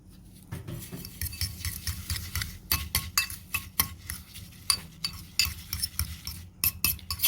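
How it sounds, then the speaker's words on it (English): Raw beef is mixed with egg and panko breadcrumbs in a bowl, producing a run of close, wet squelching and clinking stirring strokes that repeat in a loose, steady rhythm and get louder toward the end, with no voices. "I'm just going to mix this around a little bit"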